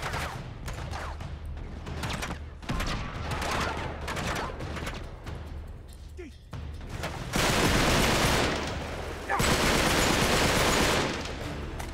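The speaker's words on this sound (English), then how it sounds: "Who's shooting at me?" Heavy gunfire in the video game Uncharted 3: Drake's Deception: repeated loud volleys and rapid bursts crackle almost continuously, with the densest, loudest stretches of fire near the end.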